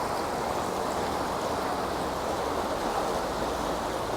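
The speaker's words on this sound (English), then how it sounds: "You can see the water flowing." A stream runs through the village in Cheddar Gorge, Somerset, giving a steady, even rush of flowing water that fills the scene without any voices.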